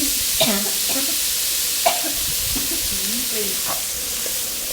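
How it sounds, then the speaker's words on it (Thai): Watermeal and pork belly are stir-fried together in a pan, a steady sizzle with intermittent scraping and clinks of stirring, and a voice murmurs faintly underneath. "ผัดผำกับอันนี้กับหมูให้เข้ากันค่ะ"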